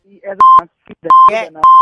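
A repeated electronic beep tone sounds three times at steady intervals as a phone call drops on a Hindi radio comedy show, with talk between the beeps.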